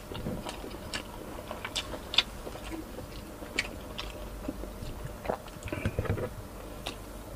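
Crispy pork belly kare-kare being chewed in a mukbang: steady close-up mastication with soft crunches and wet smacks throughout, a few louder bites standing out, no talking.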